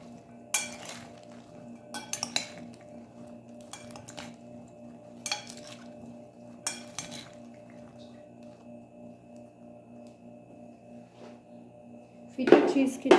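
Greek salad ingredients with garlic being tossed in a bowl, a few separate clinks and scrapes of utensils against the dish spaced over quiet pauses, ending in a louder clatter.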